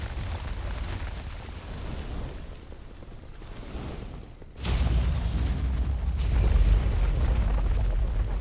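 Explosions and roaring fire in the World of Warcraft video game make a dense, continuous rumble of booms that swells louder about halfway through and stays heavy to the end, with no talking.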